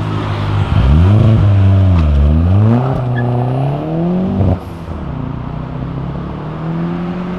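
A Chevrolet Opala engine at a car event revs hard and loud up close, its pitch sweeping up and down twice before easing into a steadier, lower drone.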